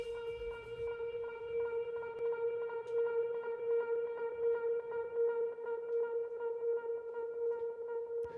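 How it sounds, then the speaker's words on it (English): A synth tone run through an Ableton delay with heavy self-feedback, a sustained, quiet, harmonically rich drone with pulsing repeats piling up continuously, heard alone without talk. "feedbacks that are too long, so that the delay just delays itself at some point."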